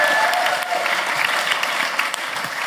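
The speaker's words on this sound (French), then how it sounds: "Est-ce qu'on peut l'applaudir encore?" Audience at a comedy show applauding songwriter JP Ringuet, a dense, even spell of clapping that holds steady and loud throughout, with no talk over it.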